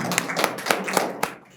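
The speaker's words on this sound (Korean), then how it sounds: "다시 한번 나눠준 부사장님께 박수 좀 부탁드립니다" Sparse, faint clapping at a science and culture forum, a handful of separate claps spaced out over a second and a half that trails off.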